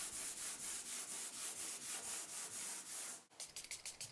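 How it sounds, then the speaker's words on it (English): A painted cabinet is lightly sanded by hand with 240 grit sandpaper, giving a steady, rhythmic back-and-forth rasp of about a dozen even strokes, close and fairly quiet, then a brief pause and a few quicker, shorter strokes. "as always in between coats I give it a light sand using a 240 grit sanding paper"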